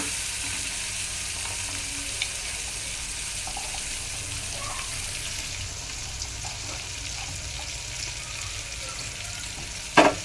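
Chopped chillies and tomatoes with cumin and asafoetida frying in a pan, a steady close sizzle broken by soft scraping stirs, ending in a sharp clatter, with nobody speaking.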